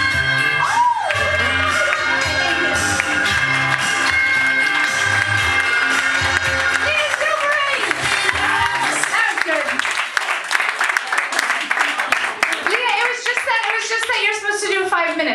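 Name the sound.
audience applause after a comedy set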